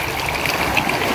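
Spring water flows and trickles steadily into the sea at Bangay Bangay Beach in Salay, Misamis Oriental, a close, continuous babbling wash with no voices.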